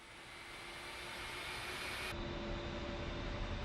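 Steady jet engine whine from an A-10C in a flight simulator game, a constant broadband roar with a faint tonal hum, holding level throughout at taxi power and slightly louder toward the end.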